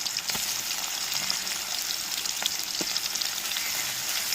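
Garlic and onion sauté in hot oil for a squid gravy, producing a steady, dense, close sizzle with faint crackles throughout.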